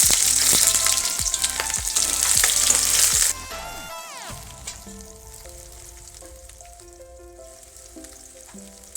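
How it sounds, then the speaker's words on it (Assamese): Panch phoron spices crackling in hot oil: a loud, busy sizzle with sharp pops for the first few seconds, then a sudden drop to quieter clinks and faint sizzling. "তেল গৰম হৈ গৈছে ইয়াত মই দিছোঁ কেইটামান পাঁচফোৰণ ফুটাই দিছোঁ"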